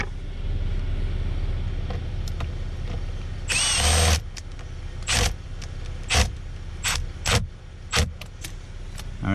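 A power tool tightens a screw on the steering coupler of a Kia Optima, giving short bursts of whirring and one longer buzz amid metallic clinks and handling noise at close range.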